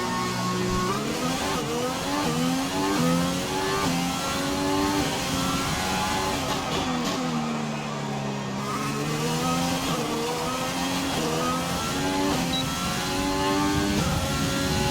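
A Formula 1 car engine in F1 2020 accelerating hard, a loud, close, high-pitched whine rising through the gears with brief dips at each shift, alone with no talk.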